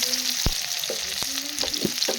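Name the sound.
onion frying in oil with cumin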